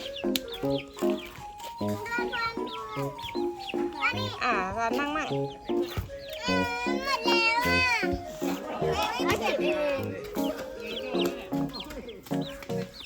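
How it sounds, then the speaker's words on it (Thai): Chickens cluck and squawk nearby in the evening while children chatter and call out over them throughout. "ไก่แย่งกัน ไก่อย่ามาจิกเท้าสินะ"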